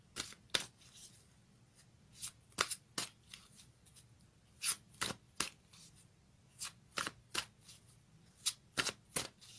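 Fairy tarot cards being shuffled close by, a rapid series of crisp riffling snaps in short irregular bursts against a quiet background, with no talking.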